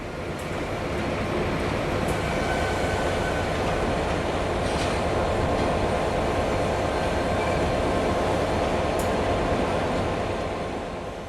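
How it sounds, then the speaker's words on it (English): A GNER InterCity 125 HST diesel train at King's Cross, bound for Aberdeen, drones with a heavy, constant engine roar as it prepares to depart. Faint rail clicks and squeals sound over the steady rumble. "HST prepares to depart King's Cross bound for Aberdeen"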